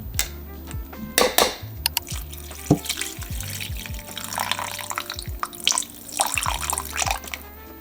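Leftover broth pours into a pot of braised teriyaki chuck roast, with splashy liquid trickles and a few clinks of the pot, irregular and close up.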